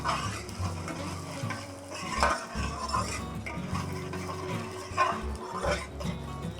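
Chopped onion, garlic, celery and leeks sautéing in olive oil in a pan, soft sizzling under repeated spoon scrapes and clinks against the pan, nearby and moderate, without speech.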